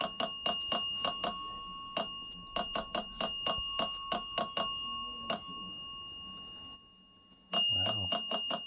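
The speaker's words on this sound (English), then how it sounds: "set the bell on top of there and it's just going crazy." A ghost-hunting dead bell, a small electronic bell ringing rapidly in quick bursts of repeated bright dings, clear and close, with a brief pause before the ringing starts again.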